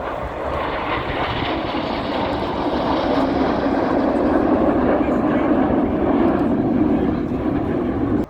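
Roaring jet engine of a Red Arrows aircraft flying aerobatics at the RIAT airshow at RAF Fairford, a steady broad rush that swells slightly, with a commentator talking over it throughout.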